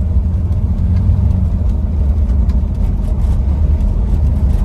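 Steady, loud engine drone and road rumble from inside a car cruising along a Swedish countryside road through forest, continuous with no speech.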